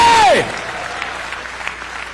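A congregation applauds after a sung or drawn-out voice glides down and fades, leaving a steady, moderate wash of clapping.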